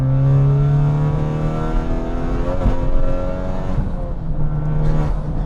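A Honda Civic Type-R with a turbocharged K20C engine running, a loud close engine drone that rises and falls in pitch as it revs through the gears.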